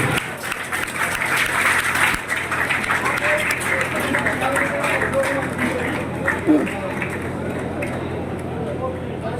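Sustained clapping from an audience at a community meeting electing a new president in Sonipat fills the room. The dense, steady applause runs at close range for the full length without fading.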